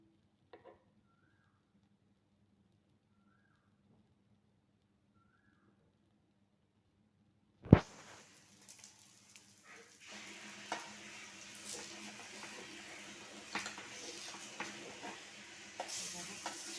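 Corn appe cooking in an appe pan, heard after near silence and a few faint bird chirps. A sudden loud clatter as the lid comes off gives way to steady frying sizzle, with light scrapes and taps as the appe are flipped.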